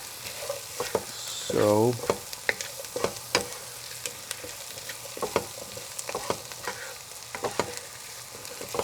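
Potatoes sizzling and frying steadily in a pan while cooking Persian lentil soup (adasi), with repeated stirring clatter throughout and a brief spoken word near the start.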